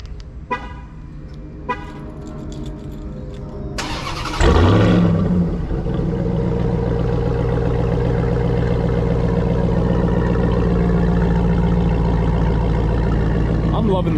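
A 2022 Ram TRX pickup fitted with a Corsa Extreme exhaust cold-starts after a few quiet seconds: a loud, sudden bark and flare of revs, then it settles into a deep, steady, aggressive idle that runs to the end, close by.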